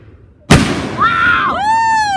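A firework bursts with one sharp, loud bang, followed by crackling and rising whistles from a backyard fireworks show, close and intense.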